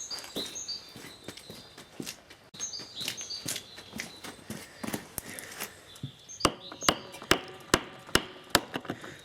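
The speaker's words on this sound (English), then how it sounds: "Now I just need a hammer." Hammer blows strike a vintage industrial taper lock bearing block, first scattered and mixed with handling noise, then a steady run of about eight sharp, close metallic knocks in an even rhythm toward the end.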